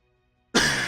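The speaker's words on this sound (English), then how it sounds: "can't get rid of this cough." A single sharp cough from someone speaking into a close microphone during a talk show, breaking abruptly out of near silence and holding at full loudness until it cuts off.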